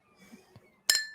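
A marker strikes a drinking glass as a makeshift game-show buzzer during a trivia game, giving a quick bright clink followed by a second short ring after a few soft faint sounds.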